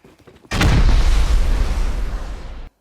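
In the survival game Rust, a rocket explodes in a single loud, deep blast that hits suddenly after a quiet moment, then roars and rumbles for about two seconds before cutting off.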